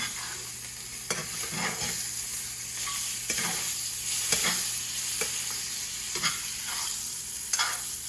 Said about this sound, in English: I begin to baste that steak